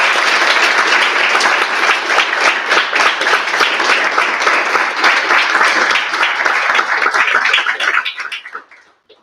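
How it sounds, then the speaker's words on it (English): An audience at an evening gala applauds an award recipient, dense sustained clapping that stays loud for about eight seconds before quickly tapering off into silence. "Please join me in welcoming him with a round of applause."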